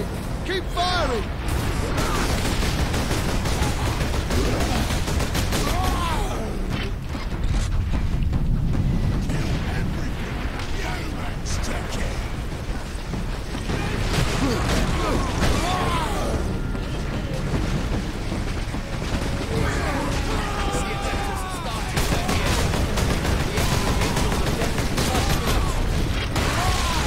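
Continuous Warhammer 40,000 battle noise, dense gunfire and booming blasts rumbling without pause at a loud level, with shouted voices over the top.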